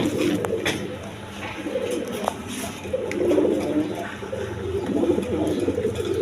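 Danish and Lahori pigeons in a market cage coo steadily and close by, soft repeated rolling calls layered over each other with no break.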